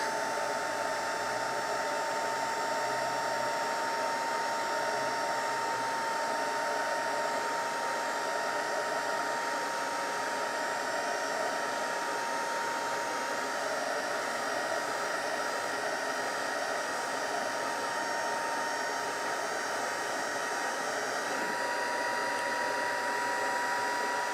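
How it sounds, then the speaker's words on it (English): A heat gun runs steadily for the whole stretch to melt embossing powder with glitter on a stamped sheet-music paper gift tag, giving a loud, continuous blowing whoosh with a faint whine and no talking. "Coming back in with the heat gun."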